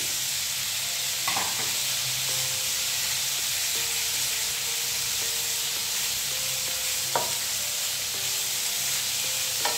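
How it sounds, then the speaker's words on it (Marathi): Cut cabbage and mixed vegetables for a veg frankie filling sizzle steadily in a hot pan with a constant frying hiss, broken by occasional scrapes and stirring clatters from a spatula, close and with no talking. "आता मी याच्यामध्ये कोबी कट करून घेतलेला तो ॲड केलेला आहे।"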